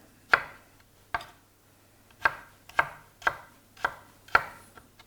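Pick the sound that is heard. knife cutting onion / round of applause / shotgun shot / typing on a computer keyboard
knife cutting onion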